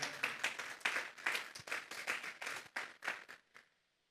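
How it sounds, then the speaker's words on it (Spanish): A church congregation claps hands together for about three and a half seconds. The claps are dense and overlapping, then stop abruptly. "Vamos a darle una ofrenda de palmas a Dios en esta hora."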